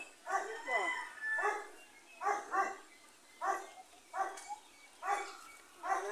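A dog lets out a series of drawn-out, howling barks in regular bursts, fairly close, with quiet pauses between each.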